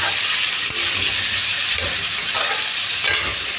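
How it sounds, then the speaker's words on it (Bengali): Coconut and potato fry in a pan for a Bengali chholar dal, giving a loud, continuous sizzle with soft stirring swishes throughout; nobody speaks. "নারকেল আর আলুটা এবার ভালো করে এর সঙ্গে ভেজে নেবে"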